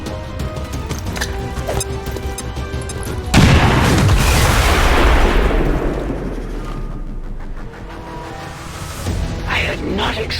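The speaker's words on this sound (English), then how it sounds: "Grenade!" A grenade in the XCOM 2 video game detonates in a sudden loud boom midway, its blast decaying over several seconds amid game sound effects, with voices talking before and after.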